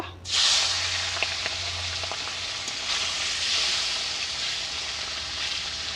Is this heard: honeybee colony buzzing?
no